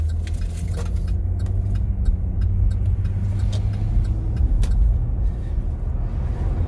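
A car driving along and swinging quickly around a corner on a snowy road, with steady low engine and road rumble throughout, close and fairly loud, no speech.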